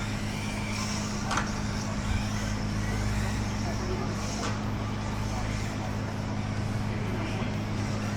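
A Hobby Plus RC short course truck runs down a straightaway, its electric motor giving a steady, loud whine and rumble with a couple of brief sharp bursts, heard from nearby outdoors.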